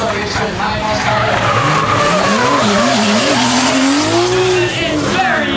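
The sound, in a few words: drift car accelerating and skidding at King of Drift Asia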